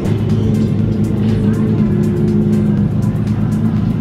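A Ferrari F50 sports car's engine roars loudly and continuously at close range, a steady deep rumble with a sustained tonal drone, amid a car-week crowd setting.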